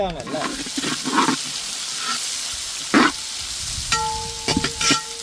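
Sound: onions with cinnamon, cloves and cardamom frying in oil

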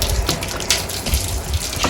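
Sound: water being splashed to clean a solar panel

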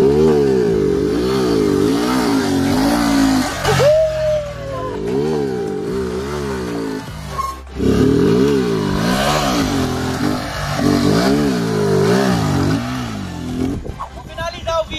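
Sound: Honda Titan 150 motorcycle engine revving during a wheelie

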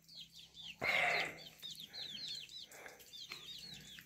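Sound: chickens clucking

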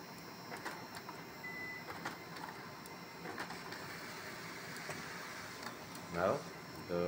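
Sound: laser printer feeding paper

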